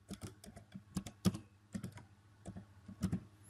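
Irregular bursts of clicks from keys on a computer keyboard, close and quiet, in short clusters with brief pauses and no voices.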